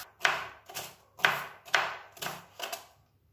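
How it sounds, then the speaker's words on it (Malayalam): A knife chops yam flower into fine pieces on a board, five or six crisp distinct strokes in a steady rhythm, close and fairly quiet, with no talk. "ഞാനിത് ഒന്നും കൂടി ചെറുതാക്കി കട്ട് ചെയ്യണേന്"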